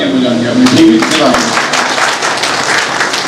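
A crowd at a bird farm function in Hazro, Pakistan applauds in steady, continuous clapping while a voice talks over it briefly at the start.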